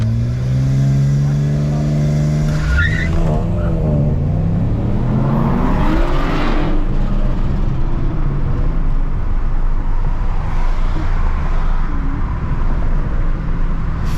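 BMW 335xi accelerating hard while racing a Camaro, a loud close engine roar climbing through the revs with a brief gear shift, then sustained wind and road roar, no talking.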